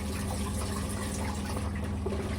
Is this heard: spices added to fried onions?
no